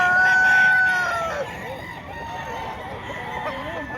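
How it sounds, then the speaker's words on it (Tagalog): Large roosters and chickens at a poultry market in Padre Garcia, Batangas, with loud crowing up close and clucking and other fowl calls layered behind through the whole stretch. "Malalaki yung manok."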